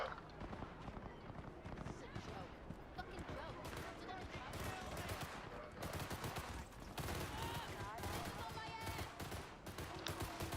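Rapid bursts of gunfire in Cyberpunk 2077 rattle through the scene, mixed with other game sounds and a voice talking underneath. The shots come in dense, quick volleys of moderate loudness across the whole stretch.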